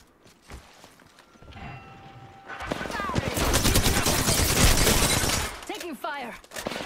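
Rapid automatic gunfire in the battle royale shooter Apex Legends, a loud sustained burst from nearby after quieter movement sounds, with brief follow-up shots and scattered clinks.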